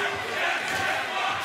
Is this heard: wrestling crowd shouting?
yes